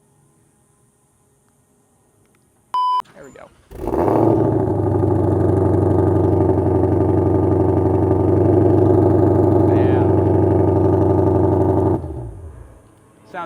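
A Shelby Mustang GT500 with a 5.2-liter V8 cranks and fires up, then settles into a loud, steady, rumbling idle for several seconds before shutting off, with a brief spoken remark just before it starts.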